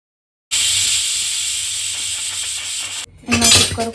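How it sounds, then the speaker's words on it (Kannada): A home pressure cooker cooking sprouted horse gram sambar lets out a loud, steady steam whistle for about two and a half seconds, then cuts off and gives a short, rougher burst of hissing steam. "ಇವಾಗ ಕುಕ್ಕರ್ನ ಕ್ಲೋಸ್ ಮಾಡಿ ಒಂದು 3 ವಿಷಲು ಇಲ್ಲ 4 ವಿಷಲ್ ಕೂಗಿಸ್ಕೋಬೇಕು."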